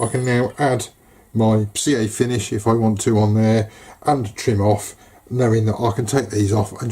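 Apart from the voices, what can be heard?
No distinct noise like a dog, phone or traffic.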